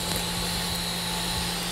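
A vacuum cleaner set to blow air runs with a steady, unbroken motor drone and rushing airflow, close and constant throughout a dynamic pressure demonstration, with no talking.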